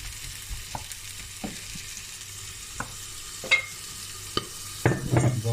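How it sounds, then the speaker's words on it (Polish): Chicken livers and apple pieces with browned onion sizzle steadily in a frying pan, a constant hiss broken by occasional clacks and scrapes of stirring, close up and with no talk. "Wątróbka nam się smaży, jabłuszka też."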